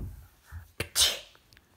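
A child sneezes once, sharp and close, after kalanchoe juice is put in the nose, with a faint breathy sound just before it and quiet room noise around it.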